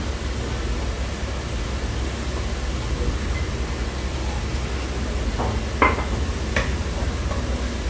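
Spice paste for a Bengali fish curry fries steadily in a pan, a continuous close hiss and sizzle with a few brief clinks or stirring taps near the end, no voices.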